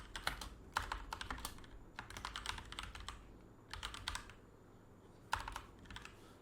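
Bursts of quick keystrokes on a computer keyboard as a customer name is entered into a service complaint system, close and fairly quiet, in several clusters separated by short pauses.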